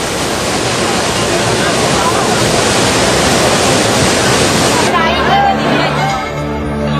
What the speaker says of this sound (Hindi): बाढ़ का पानी पुल से 3 फीट ऊपर तक बह रहा है।